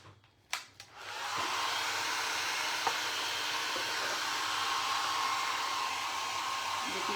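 A hair dryer dries freshly made paper mache boxes. It starts after a couple of handling knocks, then blows as a loud, steady, close airy roar that holds to the end.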